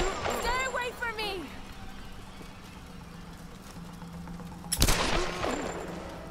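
Gunfire in the Tomb Raider video game: one loud, sharp shot rings out near the end after a stretch of quieter rustling, with a voice heard shouting over the scene.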